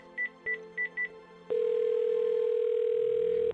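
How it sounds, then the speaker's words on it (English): Four short keypad tones beep in a quick, uneven rhythm on a telephone, then a steady, loud dial tone starts and drones for about two seconds before cutting off. "then began dialing the number"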